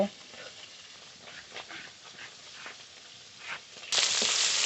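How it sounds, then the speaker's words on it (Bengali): Pieces of rohu fish fry in hot oil in a pan, giving a steady, moderate sizzle with faint stirring, ending in a sudden louder hiss. "এই মাছগুলো সব ভাজা হয়ে গেছে নামিয়ে নেব"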